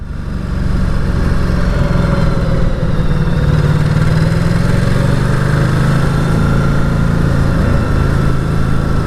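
A 2019 Ducati Diavel 1260S motorcycle engine runs close by, a loud, steady rumbling drone at idle or a light throttle that continues unbroken with no talk.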